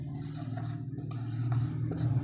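Chalk or marker writing on a classroom board, a steady scratchy stroking with short pauses, close by over a low constant hum.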